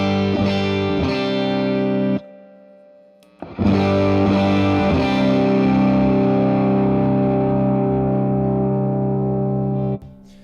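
Electric guitar through a high-gain overdrive pedal on a worship pedalboard, cranked and heavily saturated: two bursts of thick, sustained chunky chords separated by a short gap, loud and close with no talking.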